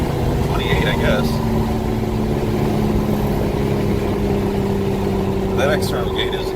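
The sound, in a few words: car with external wastegate, loud engine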